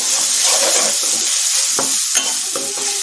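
Okra and potato frying in a pan with oil, a steady close sizzle running throughout while a spoon stirs and scrapes in several short strokes.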